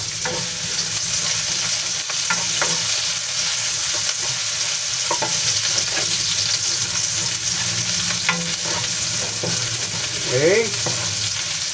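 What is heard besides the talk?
onions frying in a pan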